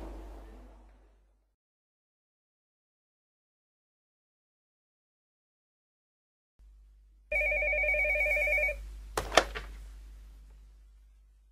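A telephone in a shop rings after a long silence, a brief electronic trill heard close and clear, followed by a clunk as the handset is picked up.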